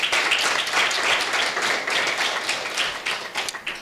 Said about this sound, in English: can we all give a round of applause for Clouds Media Group?